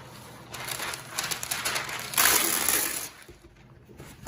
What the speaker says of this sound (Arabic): اول شيء بدي اشيل الورقه، هاي ورقه الزبده